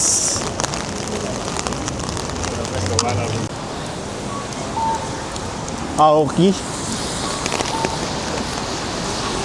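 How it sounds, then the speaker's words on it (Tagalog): Steady rain pours over a street in Akihabara, Tokyo, a dense wash of drops on surfaces with brief louder clatters near the middle, while a person talks over it. "Lumalakas ang ulan dito sa Akihabara."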